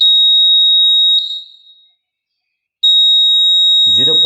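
An electronic buzzer wired into a multimeter test circuit gives a steady, loud, pure electronic tone that cuts off for over a second and then resumes, with a voice starting to speak near the end.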